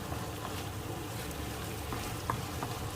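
Pork and eggplant stir-frying in a pan for a spicy Thai stir-fry: a steady, soft sizzle with faint stirring scrapes and occasional light clinks, fairly quiet and continuous throughout.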